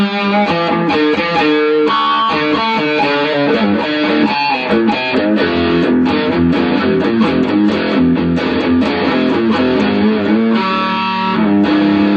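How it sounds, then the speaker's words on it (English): An electric guitar plays chords and riffs through a Yorkville Stage 150G amp with its distortion engaged, a loud, continuous, mildly gritty tone with moderate gain, up close with no talking. "it's kind of that, that kind of amp distortion where it just never quite has enough gain"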